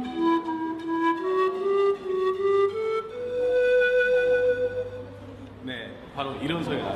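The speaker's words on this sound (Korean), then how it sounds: "심금을 울리는 부드러운 음색을 가진 악기 팬플룻" A breathy pan flute plays a slow descending melody with held notes, fairly close and clear, ending in a brief burst of noise.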